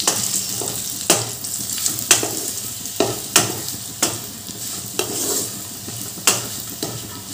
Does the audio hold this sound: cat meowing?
no